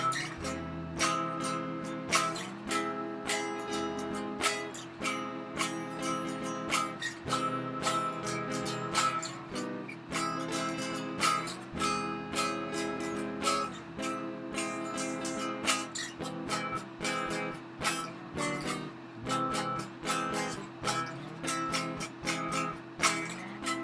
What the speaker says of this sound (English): So the inside chords sound like this.